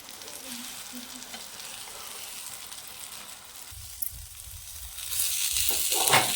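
Soaked bread fries in a pan with a soft, continuous sizzle, joined later by louder scraping and stirring noises as the slice is turned, with no talking.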